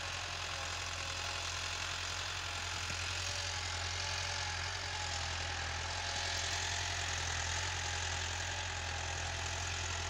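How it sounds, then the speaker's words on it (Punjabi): A Massey Ferguson 375 tractor engine labours steadily while pulling a laser land leveler across a field, a loud, continuous low drone with no talk. "ਆਪ ਦੇਖ ਰਹੇ ਹੈ ਟਰੈਕਟਰ ਕਾ ਕਿਤਨਾ ਜ਼ੋਰ ਲੱਗ ਰਿਹਾ।"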